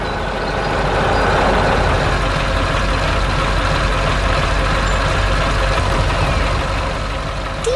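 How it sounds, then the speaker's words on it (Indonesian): A heavy yellow truck carrying logs rumbles steadily and loudly, a broad mechanical roar that holds constant throughout with no voices. "Truk berwarna kuning sedang membawa log kayu ke tempat yang sangat cocok."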